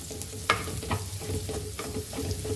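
Ingredients for Goan pork sorpotel frying in a pan, a soft steady sizzle broken by several sharp spatula scrapes and knocks.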